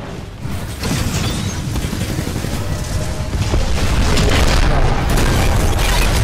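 Rockets and heavy weapons burst in the Titanfall 2 battlefield, a dense, continuous rumble of booms and mechanical clatter that grows louder toward the end, with no talking.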